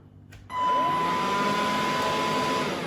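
A Bosch BHN24L handheld vacuum cleaner switches on with a sudden rise, then runs at a steady, loud whirring motor hum with a high, constant whine.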